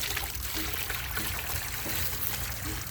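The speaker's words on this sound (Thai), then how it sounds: "เป็นน้ำครับผม" Steady water gushing from an agricultural bore well pump on a farm orchard, a continuous broadband splashing and trickling stream with a low rumble underneath, close and unbroken with no talk.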